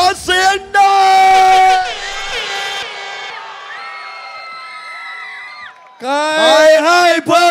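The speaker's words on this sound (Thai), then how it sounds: "ชอบใครตะโกนให้คนนั้นนะใครให้เนิร์สตามขอเสียงหน่อย" Audience at a Thai rap battle event cheers and shouts loudly in sustained bursts of yelling and whooping, dropping briefly before a fresh surge of shouting near the end.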